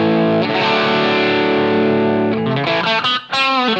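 Electric guitar with the middle pickup added in, played overdriven: a long sustained chord ringing for a couple of seconds, followed by a few quicker notes, loud and up close.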